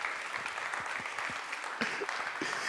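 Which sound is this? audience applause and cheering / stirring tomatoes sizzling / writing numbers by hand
audience applause and cheering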